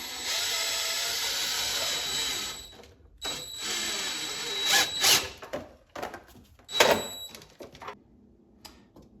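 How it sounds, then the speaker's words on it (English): A cordless drill whirs while a motorcycle lift is set up: one long close run, then a series of short bursts and stops with quiet gaps between. "that cordless drill was kind of wrenching my wrist a little bit"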